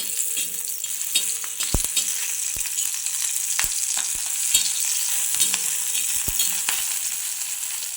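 Green chili pieces roast in a little hot oil, giving a steady bright sizzle with sharp scraping stirs and clicks from the pan spread across the whole stretch, and no voices.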